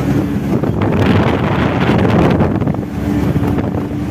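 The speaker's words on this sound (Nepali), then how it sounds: "यस्तो मोबाइल चिसो हावा लागिरहेछ कि कुरै नगरौँ" Cold night wind buffets a phone microphone inside a ten-wheeler truck cab on a Nepali highway drive. The roar is loud and continuous, with heavy low rumbling gusts and no voices.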